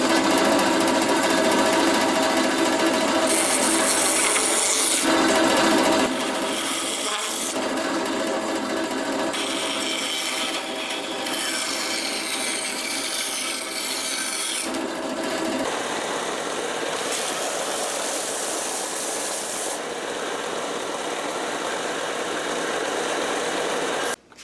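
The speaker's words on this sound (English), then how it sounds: "So I'm using the bandsaw to pre-cut this." A bandsaw whirs steadily while rough-cutting a wooden flute inlay piece, its motor humming close and continuous as the blade's tone shifts with each pass through the wood.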